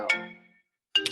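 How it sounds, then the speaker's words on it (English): A phone ringtone for an incoming call plays two short bright chiming bursts separated by a brief silence, loud and close, with no talking. "I got a phone call."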